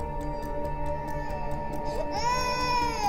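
Newborn baby crying, thin wavering wails rising into a higher sustained cry near the end, fairly soft against faint ticking in the background.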